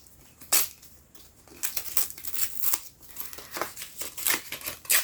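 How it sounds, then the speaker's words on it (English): Gift-wrapping paper tears and crinkles in bursts of small rips and rustles as a book is unwrapped, close and uneven, with brief pauses between handfuls. "I keep ripping like tiny little pieces off instead of like bits that are actually going to help me open"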